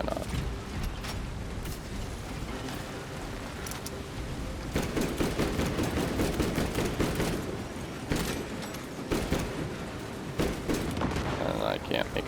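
Rapid gunfire and combat noise from the video game Space Marine 2, a dense sustained barrage of shots and clatter running throughout, loud and busy, with game sounds layered over it.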